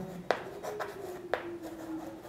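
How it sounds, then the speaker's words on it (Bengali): Pen or chalk writes numbers in short strokes, faint and close, with a couple of sharper taps between soft scratching and no talk. "তারপরে লিখবো"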